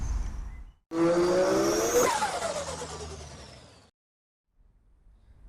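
A Ford Fiesta ST180 engine with an induction kit revs up hard with a throaty roar and rising whine, then falls away and cuts off, leaving near silence before faint rumble returns.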